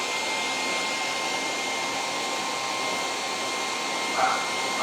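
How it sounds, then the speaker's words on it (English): A hair dryer drying chalk-style paint on a stool blows with a steady, loud whooshing hum that holds constant throughout, with a faint shift in tone near the end. "hit it with the hairdryer"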